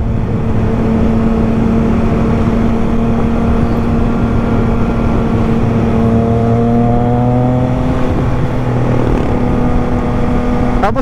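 Triumph Trident motorcycle engine while being ridden, a loud, steady, close hum with a strong low tone and rising harmonics as the revs climb, heavy wind buffeting underneath and no talking.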